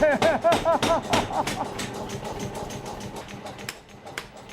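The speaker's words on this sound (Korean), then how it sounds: "절대 박자를 놓치는 법 없이 무거운 쇠망치를 내리치는 부부의 호흡이 예사롭지 않습니다" Blacksmith couple in a Vietnamese village striking iron with heavy hammers, a rapid run of ringing metallic blows with clanging overtones at first, then softer, irregular strikes fading under background noise.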